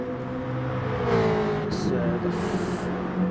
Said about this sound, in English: Dazzler in the mighty Jag